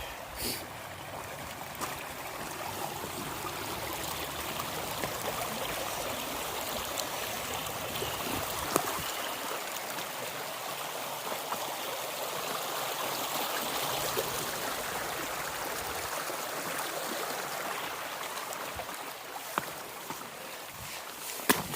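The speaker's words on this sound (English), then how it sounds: "Beautiful little creek." A small creek flows steadily along a hiking trail, giving a soft, continuous wash of trickling water with a few faint clicks and footstep-like knocks, and no talking.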